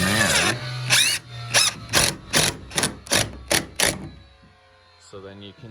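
A power drill drives screws into a shed door hinge in a series of about eight short, loud whirring bursts, with a voice speaking at the start and end.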